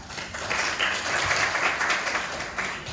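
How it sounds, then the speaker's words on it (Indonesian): A group claps during a classroom mentoring session on building structures, a brief burst of steady applause lasting a couple of seconds at moderate distance. "Tepuk tangan."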